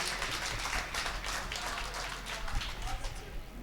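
An audience claps loudly and continuously to welcome poet Rehan Hashmi at a mushaira in Bhadohi, a dense, steady wash of applause with a voice faintly underneath.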